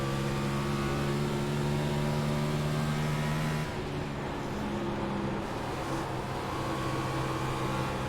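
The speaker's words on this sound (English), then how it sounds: "It's weird actually hearing the car properly through both ears." Race car engine at Dover as heard through headphones, a steady loud droning hum with sustained tonal whine, dipping slightly partway through before holding on, with no talk.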